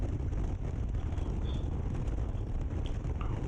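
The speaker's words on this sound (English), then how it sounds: "Definitely not getting as much wind." Wind rushes steadily against a helmet on a Suzuki Intruder motorcycle ride at moderate speed, a constant muffled roar with low rumble and no talking.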